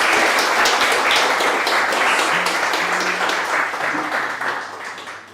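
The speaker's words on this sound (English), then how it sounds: "Can we get another round of applause?" Loud audience applause at a tech meetup in Vienna, a sustained wash of clapping that tapers off toward the end while a voice briefly speaks underneath.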